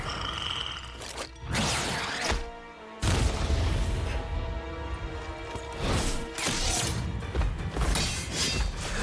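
Boba Fett's knee rockets blast in a Death Battle animation, giving a string of loud crashing explosions and shattering impacts mixed with a dense action score.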